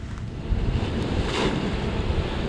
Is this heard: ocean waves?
yes